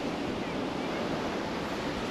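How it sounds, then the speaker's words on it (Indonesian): Low waves break steadily on Canggu Beach in Bali, a dense, continuous wash of surf with wind over the shore and no clear voices. "Ombak di sini cukup rendah ya, tidak tinggi."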